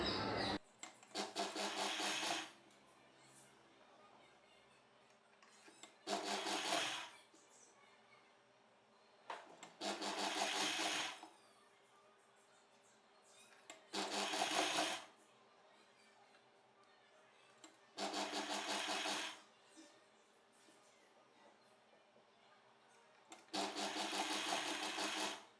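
Sewing machine stitching a blouse with cross stitches, several short bursts of close mechanical whirring separated by quiet pauses, with no talking over it.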